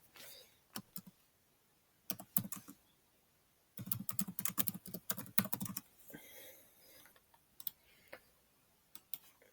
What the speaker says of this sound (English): we could then type in whatever we want